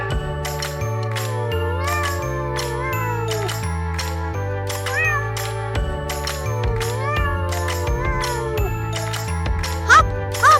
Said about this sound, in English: I'm a farm cat, and I keep the barns free of mice and rats.